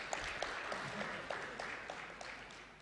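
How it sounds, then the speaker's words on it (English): Faint, distant applause from a convention audience at a civil society gathering, with a few sharper individual claps standing out from a soft, steady patter. "finally give them another big round of applause"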